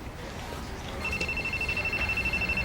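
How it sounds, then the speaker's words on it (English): A cell phone rings inside a bank office in a Western drama, a steady high electronic tone that starts partway through and repeats with a pulsing rhythm over a low room hum. "Your cell phone. It's ringing."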